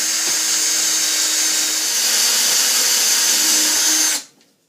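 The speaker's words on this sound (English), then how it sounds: "Make sure you pre-drill the MDF cap as well." A power drill whines steadily as it pre-drills an MDF cap, holding one high pitch for about four seconds before cutting off abruptly.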